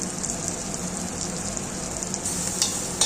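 Onions frying with turmeric and masala in a pan, a steady, soft sizzle with faint stirring scrapes near the end and no talk.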